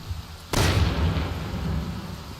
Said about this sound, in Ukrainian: я вистрілив і зразу гроза в цей же момент